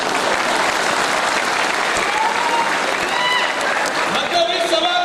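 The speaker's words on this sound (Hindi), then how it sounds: "इनके लिए ताली बजाइए।" An audience in an auditorium breaks into sustained, dense applause, loud and close, with voices calling out over the clapping throughout.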